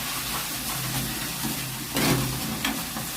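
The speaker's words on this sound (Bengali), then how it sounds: "ভালো করে মশলাটাকে কষিয়ে নেবো।" Spice masala for ghugni frying in a pan, a steady close sizzle with soft stirring scrapes and a brief louder burst of crackle partway through.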